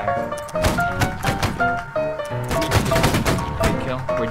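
Musket volleys in the multiplayer line-battle game Holdfast, a string of sharp cracks and overlapping bursts popping in uneven clusters, with voices and a tonal backing sound underneath.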